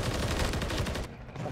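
Rapid gunfire in the video game Modern Warfare 3 during a ranked Hardpoint match, a dense burst of shots that fills most of the clip and then drops away near the end.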